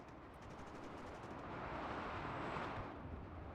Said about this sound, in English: Let's try to hit that with mortars.